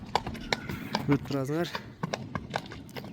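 A young horse for sale moves at an ambling gait, its hooves clopping in a quick irregular rhythm close by, while someone talks over it.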